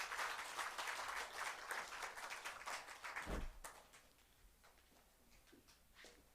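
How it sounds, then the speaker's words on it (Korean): A congregation claps at a church elder ordination service. The applause starts strong and dense, then thins into scattered claps and fades away. "박수해 주시기 바랍니다"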